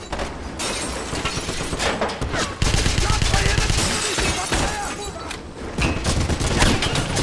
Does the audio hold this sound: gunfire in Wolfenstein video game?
yes